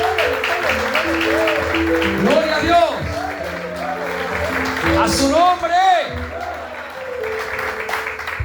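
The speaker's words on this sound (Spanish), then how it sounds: "Dale un aplauso al Señor." Congregation applauding during a Spanish-language evangelical church service, a dense wash of clapping under a preacher's amplified voice and sung or shouted praise, with music tones sustained beneath.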